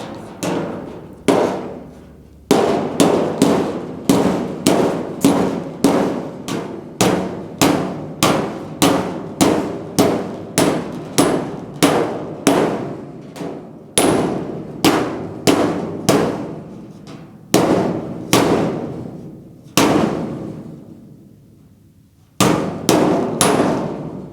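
Sharp metallic clangs from repeated hammer blows on a GTO car door's metal against a curved dolly, struck in quick steady runs with a few short pauses, close and loud.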